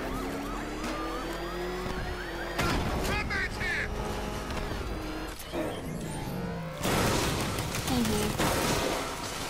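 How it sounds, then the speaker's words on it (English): Gunfire in the video game Batman Arkham Knight crackles in several sharp bursts amid a busy, noisy game soundscape with siren-like tones, moderately loud throughout. "Did anybody hear those gunshots?"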